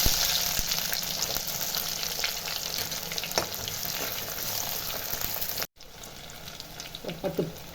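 Small onions (shallots) fry in tempering oil for a fish curry, a loud close crackling sizzle with stirring, briefly cut off and resuming with a few spatters.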